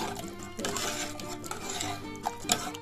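Mutton curry being stirred in a cooking pot, a steady run of metal spoon scrapes and clinks against the pot with a couple of sharper knocks near the end, close and moderately loud.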